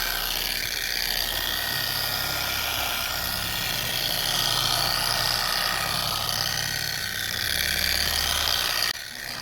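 A polishing machine buffs oxidized gelcoat on a boat hull, giving a loud, steady whirring drone that runs without a break for the whole stretch before cutting off abruptly near the end.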